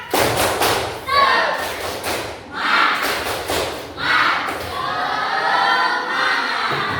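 Schoolchildren repeat a patterned clap-and-chant routine, sharp group claps in rhythmic bursts alongside chanted voices, close and loud with brief gaps between rounds.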